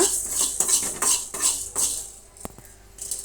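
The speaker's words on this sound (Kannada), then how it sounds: "ಒಳ್ಳೆ ಘಮ ಬರೋ ತನಕ ಫ್ರೈ ಮಾಡ್ಕೊಳ್ಳೋಣ" Fenugreek seeds fry in a pan for a village-style fish sambar while a metal spoon stirs them in a steady rhythm of scrapes and light clinks, with one sharp knock near the end.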